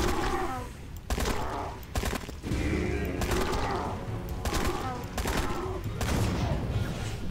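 Gunfire while hunting dinosaurs in the Dino Hunter: Deadly Shores video game comes as loud, repeated bursts of shots with heavy booms. A voice talks over it at times.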